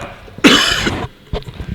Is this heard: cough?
yes